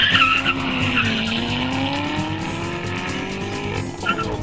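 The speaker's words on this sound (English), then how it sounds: "he's gunning the ZR1 past 130 miles per hour and loving it" A Corvette ZR1 sports car accelerates hard past 130 mph, its engine note climbing in a loud, sustained whine with strong rushing noise, heard up close and alone.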